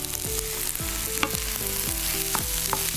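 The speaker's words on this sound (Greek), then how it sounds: "κοιτάξτε τώρα που το ανακατεύω και φαίνονται και τα αυγά" Fried rice with egg being stirred in a hot pan with sesame oil, a steady loud sizzle broken by repeated scraping strokes of the utensil against the pan in an uneven rhythm.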